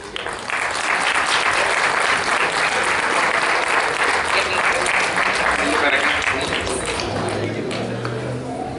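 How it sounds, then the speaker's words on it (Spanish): A church congregation claps loudly and continuously for several seconds, a thick wash of hand claps that holds steady, then thins slightly toward the end. "Para dar un aplauso a Cristo."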